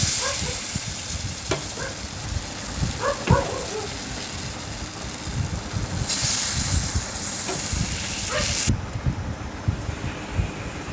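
Semolina flatbread frying in white oil in a pan: continuous loud sizzle and hiss with bursts of spitting oil, close up, some louder surges along the way.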